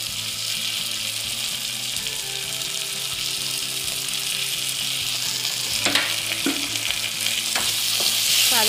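Garlic and ginger paste fries in hot oil for butter chicken, a steady loud sizzle with occasional scraping stirs toward the end, no voices.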